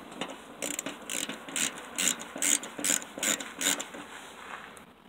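A hand ratchet clicks in quick bursts while removing bolts from the inside of a Ford Crown Victoria's side marker area, about eight short rhythmic ratcheting strokes, close and fairly quiet with no talk.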